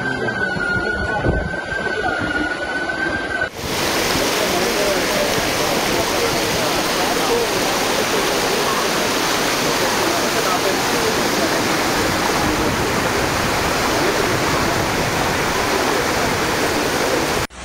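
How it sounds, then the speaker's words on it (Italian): Floodwater from an overflowing, recently uncovered canal surges down a street in Bologna after 160 mm of rain, a loud, continuous rushing roar that fills the scene steadily from start to finish. "Fiume d'acqua anche in via Rivareno, dove è esondato il canale che è stato recentemente scoperchiato"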